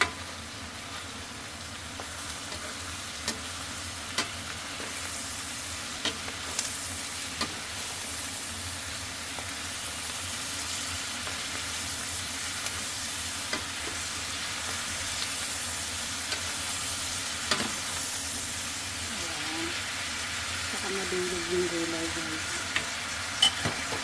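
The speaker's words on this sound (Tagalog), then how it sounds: "haluin natin ulit" Vegetables sizzle and crackle steadily in a hot pan for pancit guisado, with a spatula scraping and tapping as they are stir-fried, a continuous frying hiss with occasional clicks and no speech.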